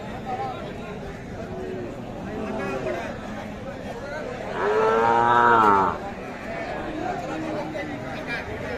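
Calves and young cattle at a crowded livestock market in Bogura, Bangladesh, with one loud, drawn-out moo rising clearly above a steady background of crowd chatter and voices.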